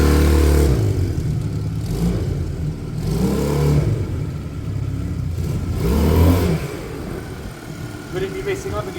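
Honda CD200 motorcycle engine revving after a carburettor swap and rejetting, loud rising and falling revs in repeated bursts, close by, with a voice talking over it.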